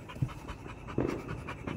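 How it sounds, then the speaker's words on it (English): A dog pants quietly in quick, rhythmic breaths during Fourth of July fireworks, alone with no talking and a faint background hiss. "You can hear her panting."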